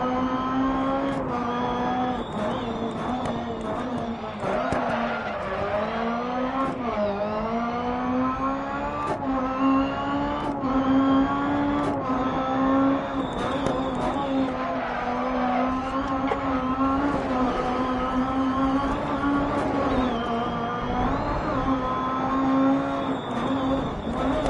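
Rally cars racing in DiRT Rally, RX superlites tearing around the track with engines revving hard and shifting up and down, close and loud throughout, with brief tire squeals and no talk over it.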